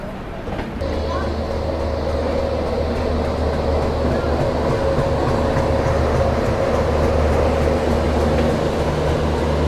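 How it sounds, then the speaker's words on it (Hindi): Sampoorna Kranti Express pulling into the platform at Rajendra Nagar Terminal station, a steady loud rumble and rattle of carriages sustained throughout, with a faint tonal hum and people talking over it. "प्लेटफॉर्म नंबर 2 पर हमारी संपूर्ण क्रांति का आज यहाँ पे अराइवल हुआ।"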